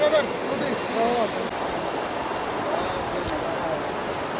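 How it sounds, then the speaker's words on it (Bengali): A river flowing with a strong current at the India–Myanmar border makes a constant, broad rushing wash, with a voice speaking briefly near the start. "আর এখান থেকে জলের ফ্লো আসছে, যথেষ্ট স্রোত রয়েছে জলের।"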